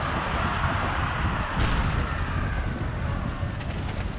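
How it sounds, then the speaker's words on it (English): Cannon fire from Civil War artillery loading canister shot against a massed infantry blob in a strategy game, a loud continuous rumble of booming discharges and battle din with a sharper blast near the middle. "Why don't you fire canister on this blob?"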